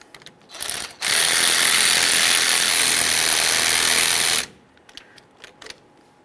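A ratchet tightens the nut on the left parking brake cable of a 1994-2001 Dodge Ram 1500, giving a loud, steady burst of fast clicking for about three seconds, with a few softer mechanical taps before and after.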